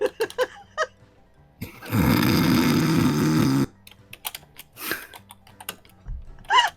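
A person imitates a small creature's snore with one long, loud, rasping drawn-in snort, set between stretches of quieter talking.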